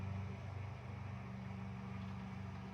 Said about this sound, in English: Sorry if you can hear the lawnmower in the background.